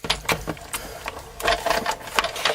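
A Big Shot die-cutting machine is cranked by hand, making a series of uneven clicking and rattling bursts as the plates feed through, close and moderately loud, with no talking.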